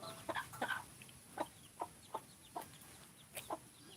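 Soft, scattered clucks from chickens come in short bursts at irregular intervals, fairly quiet and a little distant.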